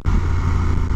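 A BMW F850GS twin-cylinder motorcycle engine idles at very low revs, a steady, close, low throbbing rumble with no talk over it.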